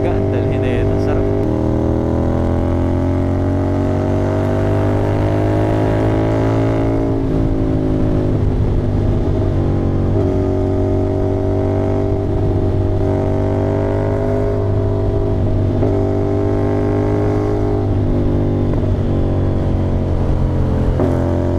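A CFMOTO 450NK motorcycle with an SC Project exhaust and a deleted catalytic converter holds a loud, steady engine drone while riding, the pitch swelling and easing through gear changes, close up and continuous.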